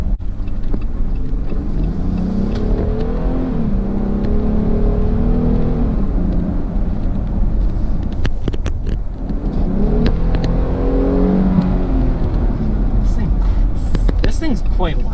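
A 2020 Jeep Gladiator's engine revs and accelerates in two rising surges with a loud, throaty drone, heard from inside the cab with occasional clicks and knocks.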